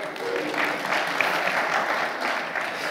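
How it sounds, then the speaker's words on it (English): A church congregation applauds together in one steady, dense burst of clapping that holds at an even level from start to finish, with no voices rising above it. "Give yourselves a round of applause."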